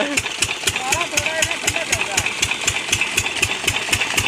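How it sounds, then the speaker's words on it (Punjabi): An old engine on a farm borewell, started up in the fields, chugs at idle with a steady, rapid knocking beat, loud and close, with faint voice-like sounds mixed in. "ਅੱਜ ਅਸੀਂ ਕਰਨ ਲੱਗੇ ਆ ਪੁਰਾਣਾ ਇੰਜਨ ਸਟਾਰਟ"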